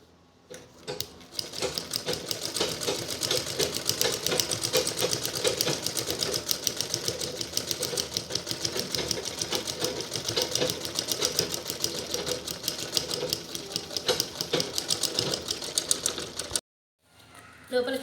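A sewing machine stitches plastic carry bag covers in a long, fast, steady run of rapid needle clatter, close and loud, stopping briefly near the end before starting again.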